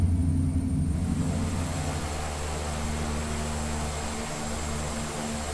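A Carenado B1900D propeller aircraft taxiing in the X-Plane 11 flight simulator: a loud, steady engine and propeller drone continues unbroken throughout, with no voices.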